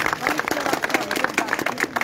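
A crowd at an outdoor public gathering breaks into dense, rhythmic clapping that carries on for a couple of seconds, with a voice speaking over it.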